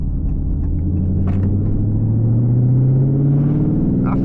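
A Dodge Scat Pack car's engine rumbles deeply while driving, with a low drone that rises in pitch as it gently accelerates. It is loud and steady inside the cabin, and no one speaks.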